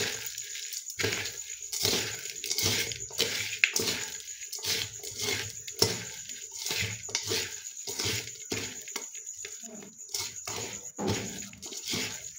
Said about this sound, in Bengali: এখন একটু সরিষার তেল দিয়ে দেবো, কাঁচা তেল। এগুলো খুব ভালোভাবে হাত দিয়ে চটকে দেবো।